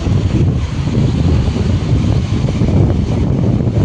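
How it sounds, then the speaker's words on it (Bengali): Steady wind on a river bank at Diamond Harbour rushing and buffeting against the microphone outdoors, a loud continuous low roar throughout. "আর নদীর পাড়ের হাওয়া দারুণ লাগছে।"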